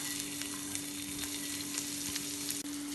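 Finely chopped ginger, garlic and sliced green chillies sizzle in hot oil, a steady close crackle with a few sharper pops and light stirring, no voices.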